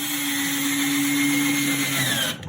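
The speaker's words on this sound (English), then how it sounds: "And he's screwing it on top of that also." A power drill whines steadily as it drives a screw through wood into a cabinet, one close, loud continuous run that cuts off after about two seconds.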